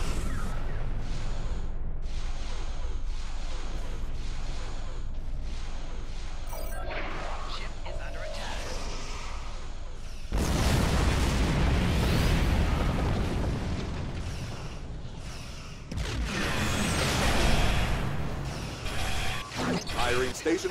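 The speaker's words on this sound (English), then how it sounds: "Firing station plasma lance in 3," A station plasma lance fires in the Star Trek Online Mirror Universe event, a heavy roaring blast that swells into a dense, booming rumble over busy mechanical game noise, with a voice talking earlier.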